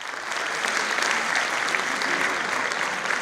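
A concert audience at the Kočani rice festival claps continuously, a dense, loud wash of applause from a large crowd that holds steady for the whole stretch.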